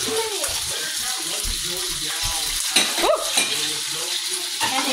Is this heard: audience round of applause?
no